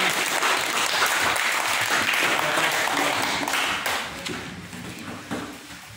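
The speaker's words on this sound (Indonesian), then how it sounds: "Tepuk tangan untuk kelompoknya" A classroom of primary school pupils claps for a group of classmates, a dense burst of hand claps that runs steady and then thins out toward the end, with faint voices underneath.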